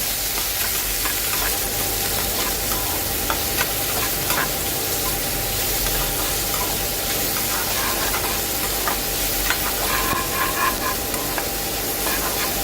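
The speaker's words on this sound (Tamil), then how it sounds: "அதுக்கப்புறம் நல்லா வதக்கி விடுங்க ஆனியன் நல்லா வதங்கட்டும்" Onions and chilies sautéing in a pan: a continuous loud hiss and sizzle with light scraping from stirring.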